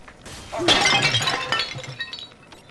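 A porcelain tea set crashes and shatters in one loud burst in the video game BioShock 2, its shards tinkling and scattering for a moment afterwards.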